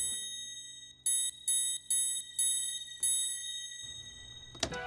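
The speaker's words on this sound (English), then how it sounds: "It is none other than the signature triangle." Bright metallic triangle strikes from an Ableton stock preset, drenched in reverb and panned toward the left: five evenly spaced rings with long shimmering tails, followed by a short noisy burst at the end, with no voices.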